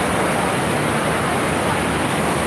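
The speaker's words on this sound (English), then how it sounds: "that's where you do like surfing waves right there" Water rushes continuously on a surf wave ride at the West Edmonton Mall indoor water park, a loud, dense, unbroken roar of churning water with no other clear sounds.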